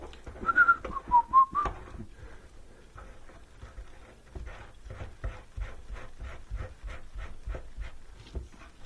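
Someone whistles a brief melody of a few notes, followed by a run of rhythmic scraping clicks, while replacing an American Standard Speed Connect drain with a brass pop-up drain.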